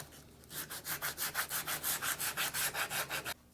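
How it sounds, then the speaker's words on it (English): Wooden guitar part sanded by hand with 80-grit sandpaper, about fifteen quick, even rasping strokes in a steady back-and-forth rhythm, close and fairly quiet with no talk. "I'll just hit it with this 80 grit really quick"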